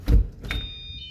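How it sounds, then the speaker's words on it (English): A locked metal gate at the Ren Lake recreation area rattles with a dull thud when pulled, then emits a thin, steady electronic beep that holds briefly. "There's some kind of a beeping sound when I pull too hard."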